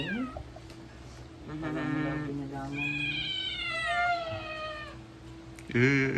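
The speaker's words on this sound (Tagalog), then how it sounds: "Talk to Mimi, say meow." A pet cat meows repeatedly, close and clear, with drawn-out, wavering cries and a short sharp meow at the end.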